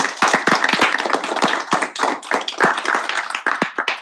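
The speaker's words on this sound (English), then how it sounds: "Please give him a big round of applause." An audience gives a round of applause after a presentation at a Senate meeting, a dense, steady burst of hand clapping with sharp individual claps standing out, lasting throughout.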